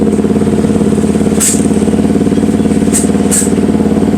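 A Yamaha R15 motorcycle engine runs in a steady, loud, close idle, its pulsing low rumble constant, with a few brief sharp clicks or chirps on top.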